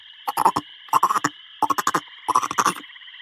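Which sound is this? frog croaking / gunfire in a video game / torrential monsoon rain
frog croaking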